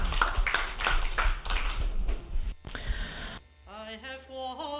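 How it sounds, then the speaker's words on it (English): Applause at a social centre gathering: a run of loud, near claps with a few distinct rhythmic hits, cut off after a couple of seconds, then a quieter stretch with a sustained musical or sung tone. "give a big round of applause to Mary Buckley"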